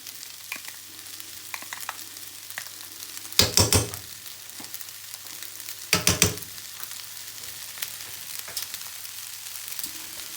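Egg fried rice with chili sauce and soy sauce stir-fries in a pan with a steady crackling sizzle, broken by two loud bursts of scraping and tossing, with no voices.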